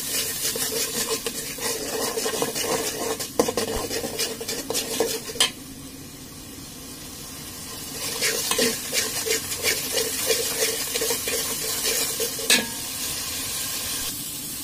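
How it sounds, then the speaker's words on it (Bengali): Chili powder, turmeric and ginger-garlic paste sautéing in oil in a pan, with steady sizzling and repeated scraping, stirring strokes of a utensil against the metal, pausing briefly midway before resuming. "মরিচের গুঁড়া আর আদা রসুনের পেস্ট, এগুলো দিয়ে ভালো করে কষিয়ে নিতে হবে।"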